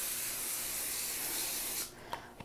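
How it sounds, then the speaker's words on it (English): Nonstick cooking spray is sprayed onto a cooling rack, a close, loud, continuous airy hiss lasting nearly two seconds, then cutting off to a couple of faint light taps. "I'm going to spray this rack with some nonstick spray"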